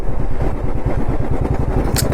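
A Bullet motorcycle engine thumps along in a steady, loud, low rumble while riding slowly, with a brief high chirp near the end.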